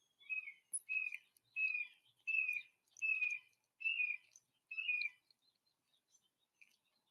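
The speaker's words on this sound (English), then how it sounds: "the tweet of the finch" A finch sings in the morning, repeating about seven short, bright chirping phrases at a steady rhythm. Faint and somewhat distant in an otherwise quiet setting.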